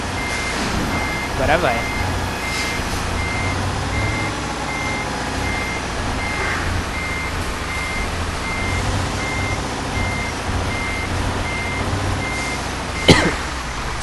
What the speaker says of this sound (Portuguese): Finalmente conseguimos dar ré aqui no caminhão